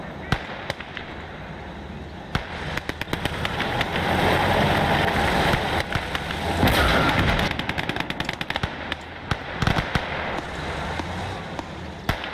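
Gunfire in Call to Arms Gates of Hell fills a hardcore German conquest battle with rapid machine-gun bursts and scattered single shots over a steady combat roar, some cracks loud and near, others distant.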